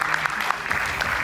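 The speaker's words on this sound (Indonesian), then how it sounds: "Kita berikan tepuk tangan untuk Bung Sylvester Matutina." Studio audience on a political talk show gives a short burst of applause, a brief, fairly close patter of clapping with a few sharper hand claps standing out.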